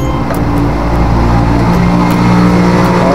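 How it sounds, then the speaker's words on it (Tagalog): Loud, steady engine rumble of motor tricycles passing close by on a road, with revving swells and no pause in the traffic noise. "maingay dito sa amin kasi nasa tabing kalsada kami. Maraming tricycle."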